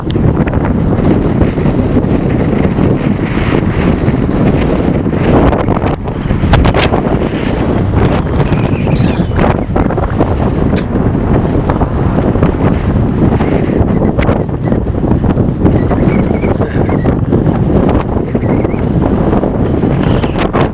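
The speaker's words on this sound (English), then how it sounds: "There's some gusts today that have been picking up" Strong wind buffets the microphone in steady, roaring gusts for the whole stretch, loud and close, with no voices.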